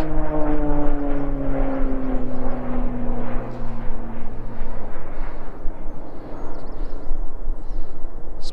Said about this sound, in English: there's a Spitfire going through the valley